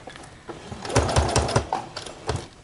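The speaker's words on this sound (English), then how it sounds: "I will do my back stitch here just to be sure" Sewing machine running short back-and-forth bursts of back stitching on a cloth diaper, close mechanical whirring in uneven spurts with brief pauses between them.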